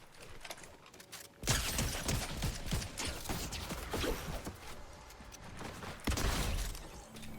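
Loud, dense bursts of gunfire in a video game shooter erupt about a second and a half in, clattering and crackling continuously with mechanical rattles and surging again near the end.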